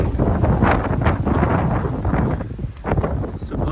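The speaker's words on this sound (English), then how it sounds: "as you can hear, it's pretty windy here in San Antonio." Strong wind in San Antonio buffets the microphone in loud, rough gusts, a continuous roaring rumble that briefly eases before surging again.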